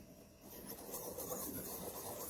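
A knife blade being rubbed across a sharpening surface, giving a steady, continuous rasping scrape that holds at an even level throughout, close by with no voices.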